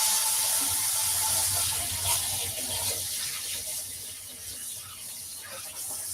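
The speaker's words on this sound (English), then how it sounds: "And I am washing my hands." Hands being washed under a running kitchen tap during a home baking session, a steady close hiss and splash of water that fades slightly toward the end, with no talking.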